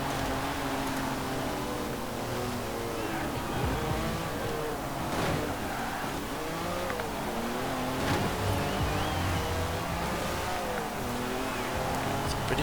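A classic racing car with a V12 in a mid-engine layout, in Forza Horizon 4, drones steadily through a continuous loud engine note with shifting pitch and occasional revs over the race.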